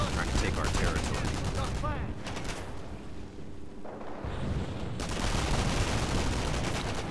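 Dense, continuous gunfire rattles without a break in a Company of Heroes battle as an enemy attacks a forward emplacement, loud and close, briefly thinning in the middle before the rapid shots surge back.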